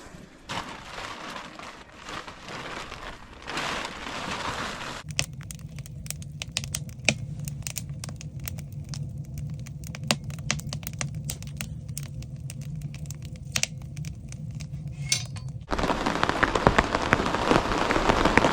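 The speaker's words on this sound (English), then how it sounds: "Listen to the rain." Rain pours steadily on a May day in Alaska, a dense hiss that drums harder on a surface in the middle stretch with scattered sharp drops, then returns to an open, broad wash, with no voices.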